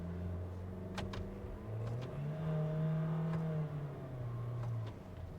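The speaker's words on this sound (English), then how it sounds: "Third, it has downshifted to third." Toyota Innova Hycross non-hybrid petrol engine on a hill drive, heard from inside the cabin as a moderate hum that rises and drops in pitch while the gearbox downshifts, with a few light clicks and no talking.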